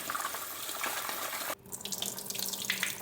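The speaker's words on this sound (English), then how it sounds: "Now you just want to wash off all the salt." A kitchen tap runs over salted cabbage leaves being rinsed in a sink, a steady close splashing stream that shifts abruptly to a lighter, uneven spatter halfway through.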